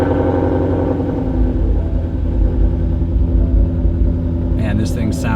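A Ford Mustang GT350 engine runs with a steady, loud low rumble throughout, and brief higher sputters or revs near the end.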